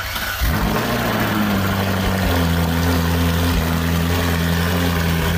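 A Ferrari 458 supercar engine running on a test drive after an exhaust repair, rising from a start into a loud, sustained mid-range drone with steady engine tones and no talk.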